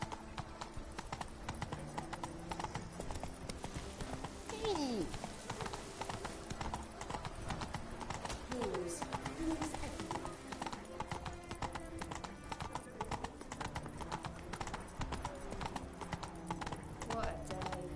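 Horse hooves galloping in a rapid, steady clip-clop rhythm in the video game Witcher 3, running continuously and close throughout with no voices.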